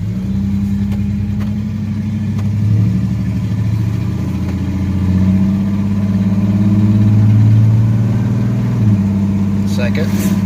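A 1982 Chevy S10 pickup with a 2.8 V6 engine drones through a test drive, its low steady hum swelling and easing as it revs, with brief speech over it.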